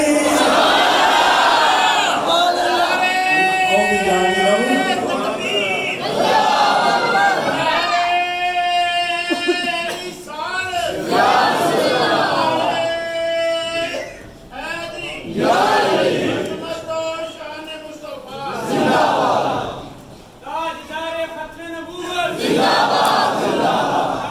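A large crowd at a religious gathering chants slogans in loud rhythmic bursts, voices rising together in repeated call-and-response waves with short pauses between them.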